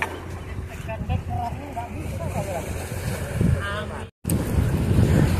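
Strong wind buffets the microphone in a constant roar, with voices talking faintly underneath and a brief dropout near the end.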